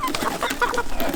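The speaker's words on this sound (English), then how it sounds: "Here's a red rooster." A red rooster clucks in a few soft, broken calls at close range, with a steady background murmur and no clear speech.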